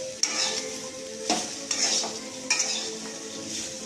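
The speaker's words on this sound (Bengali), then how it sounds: "আমার মা এখানে আলু ভাজছে" Potatoes frying in a pan, a steady close sizzle broken by a few sharp scrapes and stirs of a utensil against the metal.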